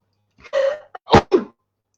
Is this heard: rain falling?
no